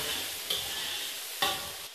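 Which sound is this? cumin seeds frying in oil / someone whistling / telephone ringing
cumin seeds frying in oil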